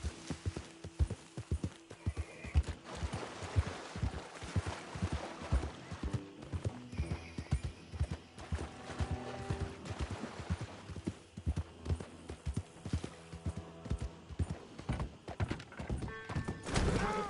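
Horse hooves clip-clop in a steady walking rhythm throughout a video game scene, close and distinct, with a brief neigh mixed in.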